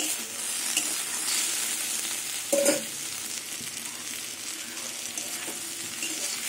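Potatoes and brinjal with neem leaves fry in a pan, a continuous close sizzle with occasional stirring scrapes and one brief louder clatter partway through.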